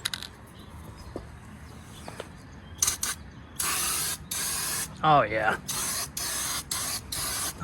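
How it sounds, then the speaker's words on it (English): Aerosol spray can spraying paint onto MSCHF big red rubber boots in a series of loud hissing bursts, growing longer and more rapid, with a brief voice exclaiming and faint rattles between sprays. "let's spray these boots"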